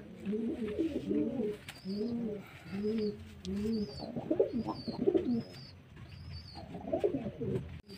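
Several pigeons coo close by in soft repeated rounded phrases, some higher chirps between them, in a quiet outdoor setting.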